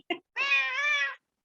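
A cat gives a short chirp followed by one longer drawn-out meow, close and clear against silence, with no talking.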